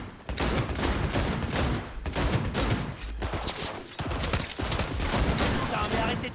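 Gunfire in Cyberpunk 2077, rapid bursts of loud shots in close succession, dense and continuous like a sustained firefight with brief pauses, under faint talk.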